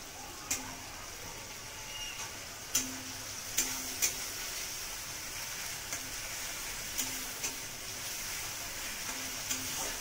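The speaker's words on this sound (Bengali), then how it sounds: "মশলাটা খুব সুন্দর ভাজা হয়ে এসেছে।" Grated onion with turmeric, chili powder and garam masala fries in oil in a pan for katla fish tel jhal, a soft steady sizzle close by, broken by occasional light clicks of stirring.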